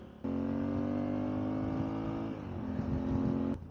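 A Honda XL1000V Varadero motorcycle engine runs low on fuel, a steady close-up drone that briefly dips and wavers before picking up again, without voices.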